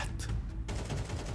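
Gunfire in the Counter-Strike 2 video game: a dense, continuous burst of shots that sounds like rapid automatic fire, steady and fairly loud throughout, with no voices.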